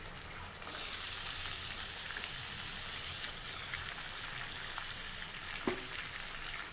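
Meat pieces, including liver and leg pieces, hit hot oil in a pan and settle into a steady, rain-like sizzle that holds evenly throughout, with a small clink near the end and no speech.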